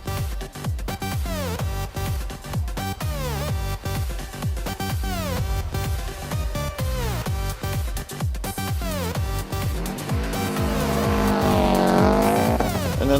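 Cars powering down the drag strip at Santa Pod Raceway, including American muscle cars and sleeper Q-ships, with loud continuous engine roars and repeated revving sweeps, rising to a louder, denser blast near the end.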